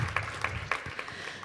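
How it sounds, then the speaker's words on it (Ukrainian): Brief, scattered applause from a stand-up comedy audience, a handful of separate claps and short bursts rather than a full ovation, fairly close and fading quickly. "Це достойно аплодисментів, ребят"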